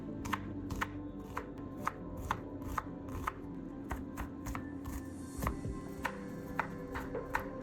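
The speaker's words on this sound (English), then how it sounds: "Start with the onion peel off the skin and chop it into small, even pieces." A knife chops a peeled onion into small, even pieces on a board, giving a steady run of crisp, close taps at a brisk, regular rhythm.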